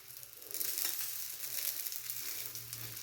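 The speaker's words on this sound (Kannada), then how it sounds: "ನೀಟಾಗಿ ಹಿಂದೆ ಮುಂದೆ 2 ಕಡೆ ಫ್ರೈ ಮಾಡ್ಕೊಳ್ಬೇಕು." Fish fries in oil in a pan, giving a steady, soft hiss and crackle close by with no voices.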